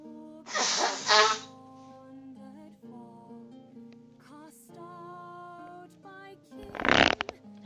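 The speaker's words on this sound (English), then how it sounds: "I don't know what is with this sneezing." A character in the video game Morrowind gives a short, sharp sneeze near the start and another near the end, both set against soft, sustained game music with no talking.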